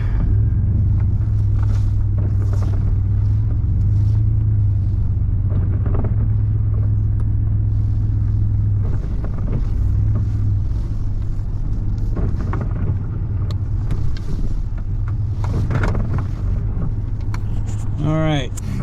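A four-wheel drive vehicle moving through snow, with a loud, constant low engine rumble and drivetrain drone throughout and a voice talking over it.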